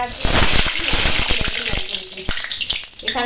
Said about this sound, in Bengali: এই মাছগুলো ভেজে নেবো।